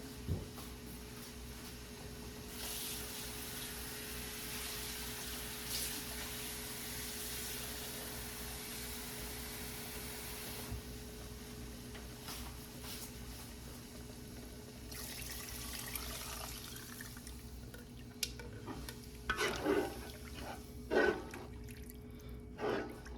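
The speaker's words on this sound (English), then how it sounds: "So the water that I kept in this bowl here, I am adding all of it in." Water from a bowl pours steadily into a cooking pot for a long stretch, a continuous rushing stream, with a few clinks and drips near the end.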